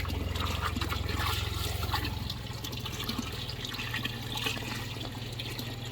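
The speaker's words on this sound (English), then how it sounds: "So this is just straight pond water that I'm pumping in here right now." Pond water pumped into a tilapia pond filter, a steady rushing, gurgling flow with a low pump hum underneath, constant and close throughout with no talk.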